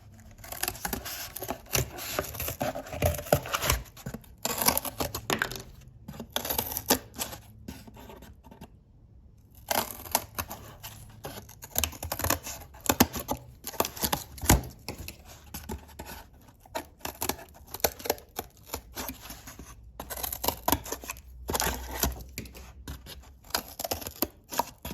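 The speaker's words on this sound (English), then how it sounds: "So I do little cuts at a time. Makes it easier cutting cardboard." Scissors making little cuts through cardboard for a coil pot template, a close run of short crisp snips and scrapes in irregular bursts with brief pauses between them, and no talking.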